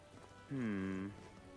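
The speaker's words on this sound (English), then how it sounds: "Oh, I hate the rain." Soft, steady rain falls in the game Metaphor ReFantazio, a faint hiss throughout, broken midway by a short, louder voiced sound.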